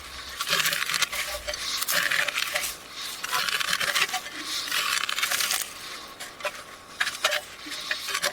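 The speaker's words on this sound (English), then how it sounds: "You just scrape the ground." Topsoil scraped off the ground by hand, a steady, gritty rasp of earth and small stones that runs in continuous close strokes with brief pauses, with no talking.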